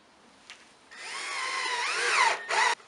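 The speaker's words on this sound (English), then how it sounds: "I'm gonna take a small screw and just screw it in the middle to hold the brace together" A power drill drives a small reused screw into a wooden brace for a homemade bonsai turntable: a short blip, then a steady whine that climbs in pitch, dips, and ends with a final short burst.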